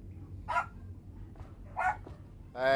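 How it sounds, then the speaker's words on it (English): A loud dog barks close by in three sharp separate barks spaced over a few seconds, over a quiet low background hum, with no talk. "I got a loud dog"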